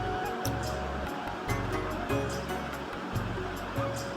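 Potato and jackfruit curry gravy bubbles in a covered pot over a low flame, a steady soft rumbling simmer with a faint repeating low throb and small pops, quiet and continuous with no speech.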